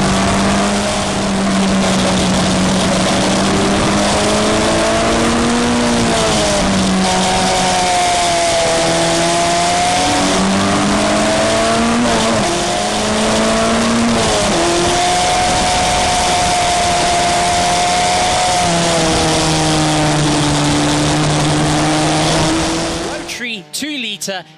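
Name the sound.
rotary 2-litre race cars racing at RedStar Raceway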